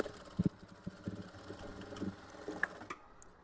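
A sewing machine stitches a blouse with a soft, fast mechanical rattle and a few sharper taps, running briefly at low volume close by before stopping near the end.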